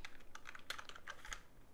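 Rapid, uneven keystrokes on a new custom Revise computer keyboard, sharp clicky taps following each other closely at a moderate, close-up level with no talking.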